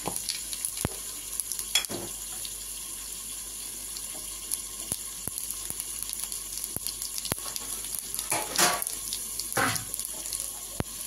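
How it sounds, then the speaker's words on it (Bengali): Whole cumin seeds hit hot oil in a pan for papaya bhaja, making a faint, steady background sizzle broken by a few sharper crackles and pops, with no talking. "তেল গরম হয়ে গেছে, আমি দিয়ে দিলাম গোটা জিরা।"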